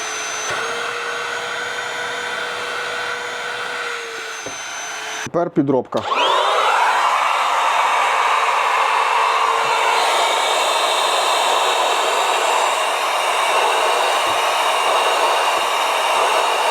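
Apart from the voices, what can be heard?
cordless vacuum cleaners running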